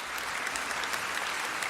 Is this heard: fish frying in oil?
no